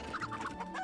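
Chickens in an animated cartoon give a short, quick burst of rapid clucks, close and fairly loud, with no talking.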